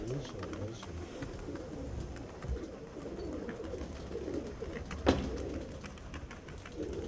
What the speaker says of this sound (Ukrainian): А, це така красива голубочка, так.